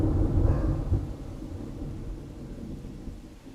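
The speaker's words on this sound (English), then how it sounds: "Dude, listen to that thunder behind my truth." Thunder rumbling through a storm, a deep, broad roll that swells loudest near the start and then fades into a lingering low grumble with no voices over it.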